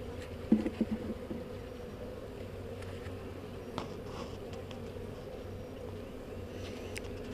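Honey bees hum softly around an open hive while a nuc is being installed, a faint steady buzz with a few brief knocks near the start and no talk.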